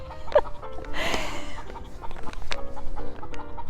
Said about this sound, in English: So that's how a hen sounds when they've laid an egg.